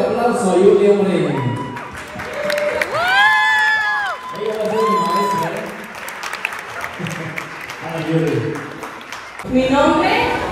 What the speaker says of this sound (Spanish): Un fuerte aplauso a Julia Moreno.